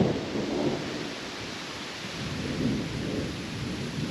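Thunderstorm out on open hunting ground, with low rolling thunder swelling twice over a steady wash of rain, close and continuous, no voices.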